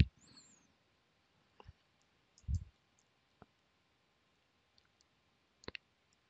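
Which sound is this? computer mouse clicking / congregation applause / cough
computer mouse clicking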